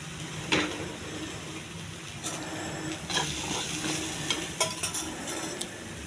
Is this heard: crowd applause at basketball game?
no